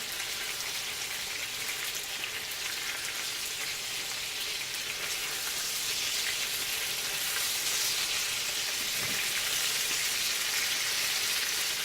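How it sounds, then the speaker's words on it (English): Burgers frying in a pan, a steady crackling sizzle with a dense, rain-like hiss that holds at an even level throughout, close by and uninterrupted by speech. "I'm going to let the burgers cook"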